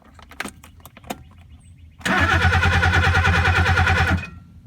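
A 1969 Mercedes 280SE coming back to life: a few faint clicks first, then the engine catches and runs loud and close in a steady rumble for about two seconds before cutting off.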